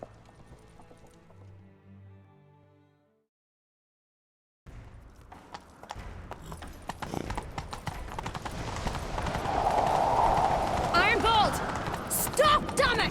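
Horse hooves galloping in The Witcher 3, a rapid rhythmic clatter that builds after a brief silence and grows louder with a whinny, while game voices speak over the hoofbeats and music.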